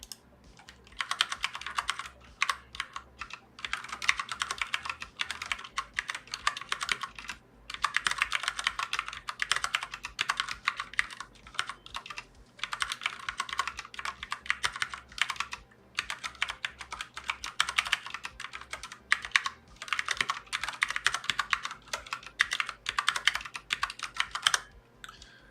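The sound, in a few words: typing on a computer keyboard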